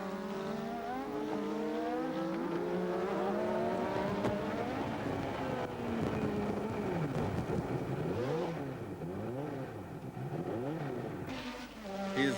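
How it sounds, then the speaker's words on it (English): A BMW turbo Formula 1 engine at the 1987 Australian Grand Prix howls loudly and continuously, its high whine sweeping up and down in pitch, turning rough and wavering as the turbo blows up, before a brief surge at the end. "this is what it saw when his BMW engine's turbo blew up"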